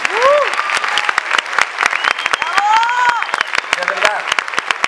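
Theatre audience applauding at the closing performance of La Jaula de las Locas, steady dense clapping throughout with cheering and whoops rising over it and a voice speaking briefly amid the ovation.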